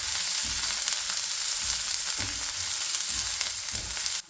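Cumin seeds, minced ginger and sliced onion frying in a pan, a steady dense sizzle that runs without pause, with soft bursts of stirring on top.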